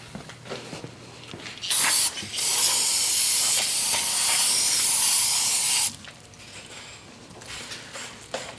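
Aerosol brake cleaner sprays during an oil change on an F56 Mini JCW, a short burst followed by a long, loud, steady hiss lasting several seconds, close to the listener and then cutting off abruptly.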